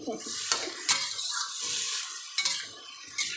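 Eggplant stir-fried in plenty of hot oil in a pan sizzles steadily while a utensil scrapes and clinks against the pan several times. Someone talks over the cooking.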